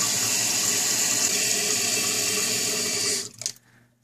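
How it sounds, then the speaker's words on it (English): A toilet tank refills with a steady rush of running water until the flow cuts off near the end, leaving a brief gurgle and then quiet. "Now let's see where the water stops."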